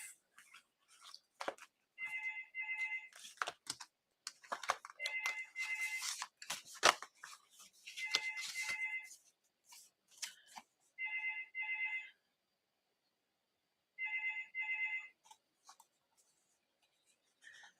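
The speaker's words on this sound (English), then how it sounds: "I just let that phone ring out because no one's got our phone number, so we know it's some spam call." A landline telephone rings unanswered in a quiet home, sounding five evenly spaced double-burst ring cycles at moderate level, layered with close pen scratching and paper handling from someone writing a card.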